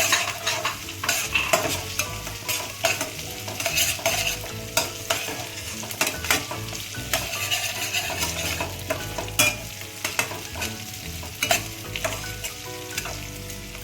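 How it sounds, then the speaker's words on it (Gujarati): Two dry red chillies and curry leaves crackle and sizzle in hot oil with a dense, continuous spitting hiss, punctuated by spoon stirs, close and without voices. "હવે એમાં નાખીશું આપણે 2 સૂકા લાલ મરચાં અને કઢી પત્તા."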